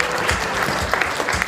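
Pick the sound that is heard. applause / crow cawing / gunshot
applause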